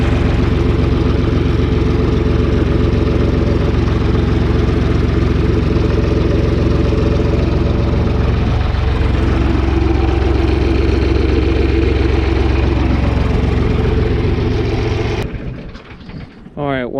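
A John Deere loader backhoe idles after an oil change, its diesel engine holding a loud, steady low rumble with light clatter for most of the time before it cuts off near the end.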